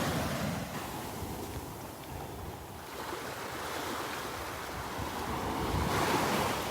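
Ocean waves roll steadily onto the beach at Delnor-Wiggins as the tide comes in, a continuous broad surf wash with wind buffeting the microphone and no voices.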